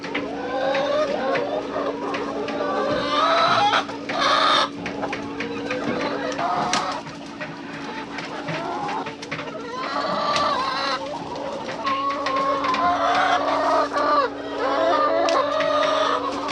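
Hens in a pen cluck and murmur steadily on a cold day, with occasional louder squawks and a crow rising over a constant low hum.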